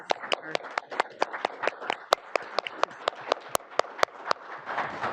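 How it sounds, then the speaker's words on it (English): A small group at a board of education organizational meeting gives a round of applause, sharp separate claps in a steady rhythm that thin out toward the end. "I'd really like to give you a round of applause"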